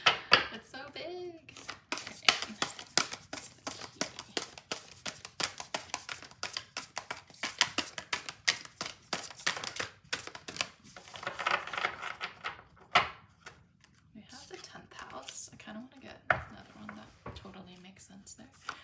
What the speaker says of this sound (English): This deck is very hard to shuffle. It's so big.